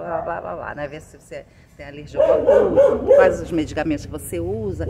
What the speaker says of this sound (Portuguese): Passou um caminhão e já está latindo.